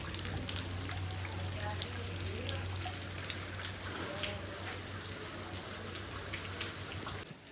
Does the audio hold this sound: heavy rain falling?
yes